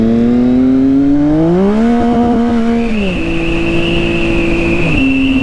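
Triumph motorcycle engine revving up and easing off, a loud, close, continuous harmonic drone that climbs in pitch, holds, then dips, with steady wind-like roar and no talking.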